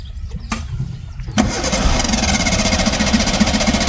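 A broken-down car's engine cranks after a couple of sharp clicks, then catches and settles into a loud, steady rumbling idle, close by with no talk.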